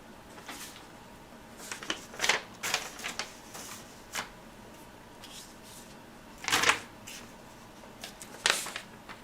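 Stickers peeled from a backing and pressed onto a sheet of paper, giving scattered crisp rips and taps spread across a quiet room with pauses between them.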